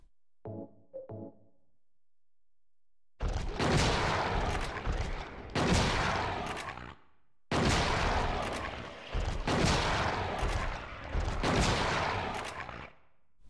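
Gunfire in the video game Silent Hill 2: a short muffled sound, then a pause, followed by a run of loud, close blasts, each lasting around a second with short gaps between, and no talk.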